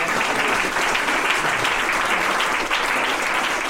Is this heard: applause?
yes